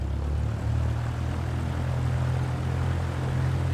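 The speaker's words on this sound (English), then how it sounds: "Might be my plane sound is really loud too." Propeller aircraft engine in Microsoft Flight Simulator 2024 drones steadily and loudly with a deep, even hum that holds without a break, alone and with no talking.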